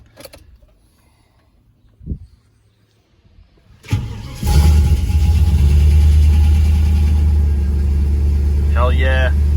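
A Holden Statesman 5.0 V8 cranks and catches with a loud start, then settles into a steady, strong rumble at close range. A brief thump comes before the start, and a voice speaks faintly over the running engine near the end.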